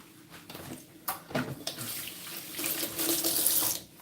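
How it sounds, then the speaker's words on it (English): Tap water runs steadily into a sink while a juicer is rinsed and washed, with splashing rising and swelling toward the end before cutting off. "Now let's wash off our juicer."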